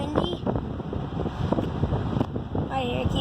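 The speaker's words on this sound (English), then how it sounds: "Very windy." Wind roars across the microphone in a moving convertible car, a close, rough, continuous buffeting rumble with fluttering gusts and faint engine and road noise beneath.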